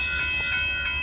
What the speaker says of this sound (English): Here comes the Union Pacific coal train that's pulling in.